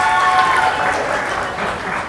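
Theatre audience at a KC Fringe show bursting into loud applause and cheers for a performer, dense clapping that peaks early and tapers slightly over a couple of seconds.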